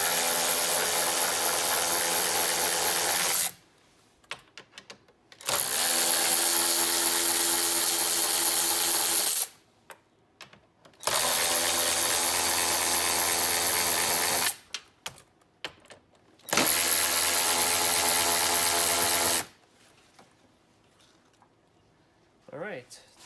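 A Ryobi cordless ratchet spins bolts out of a car's air intake in three long, steady whirring bursts, close and loud, with short quiet gaps and small clicks between them.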